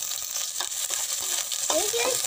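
Onions or aromatics sautéing in a frying pan before potatoes are added, with a steady sizzle and occasional stirring scrapes throughout, close and moderately loud, no talking.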